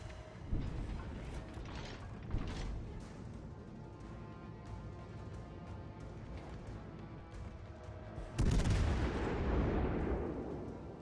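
Naval ship guns fire in World of Warships Legends with Dutch cruisers, several booming shots spread across the stretch and a big close blast near the end, over steady game background noise.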